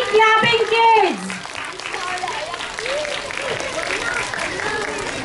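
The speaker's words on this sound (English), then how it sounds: "Everyone, please clap for them." Audience at a primary school poetry recitation and storytelling competition clapping in steady, moderately loud applause, with a voice speaking over it at the start.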